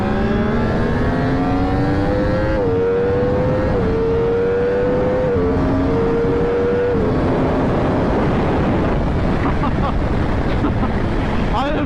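A Yamaha R1 sport motorcycle accelerating hard, its engine note climbing through gears with a brief dip at a shift, loud and close under heavy wind rush.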